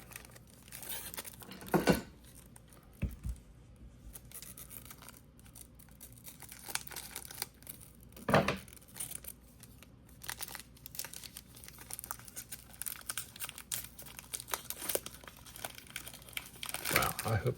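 Crinkling plastic wrapper of a trading card pack with sharp snips of scissors and tearing rustles, scattered irregularly, while a person talks softly throughout.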